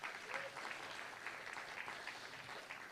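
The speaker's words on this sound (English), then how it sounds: "Let's give her a round of applause, please." Audience applause at a live Law Day event in a university venue, a sustained crackle of many hands clapping at moderate, even level for several seconds.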